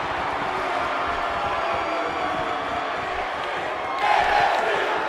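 A wrestling crowd cheers and murmurs at Sasha Banks during a six-woman tornado tag match, a steady roar of many voices that swells louder near the end, with commentary voices underneath.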